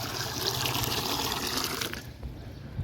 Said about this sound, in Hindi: ये पानी डाल दिया।